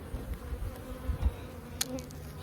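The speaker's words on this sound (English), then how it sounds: "There's a pretty good sized cluster of bees." A good-sized cluster of honeybees in a Layens hive buzzes steadily and close, a soft continuous hum with a few brief louder flutters and no talking.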